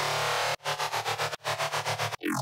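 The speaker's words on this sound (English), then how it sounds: "It's a saw wave that is being detuned in Hertz mode" Harmor synth bass layer built from a nine-voice saw wave detuned in Hertz mode, a loud buzzing tone chopped into rapid rhythmic pulses with three short gaps and a falling sweep at the end, with no voices.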